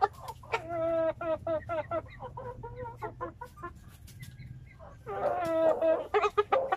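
Rhode Island Red chickens cluck in bursts close by, with rapid repeated calls in the opening seconds and again near the end, while a low hum sits underneath.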